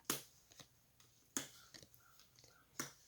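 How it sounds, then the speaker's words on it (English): Lenormand fortune-telling cards being shuffled and laid down on a table, a few soft, brisk riffles and slaps with quiet gaps between them, close and fairly faint. "I'm going to shuffle the cards and begin to lay them out."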